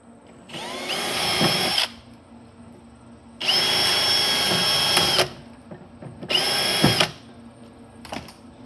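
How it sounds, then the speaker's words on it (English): A power drill whirs loudly in three bursts of a second or two each, drilling holes, separated by short quiet gaps with faint handling noises. "drill a couple holes up high"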